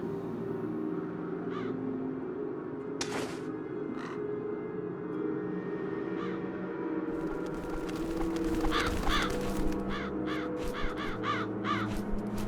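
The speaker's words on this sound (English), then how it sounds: "Vale, como veis está lleno de cuervos." Crows caw in the video game Chains of Satinav, sharp calls repeating over a low ambient game drone and growing more frequent and overlapping toward the end.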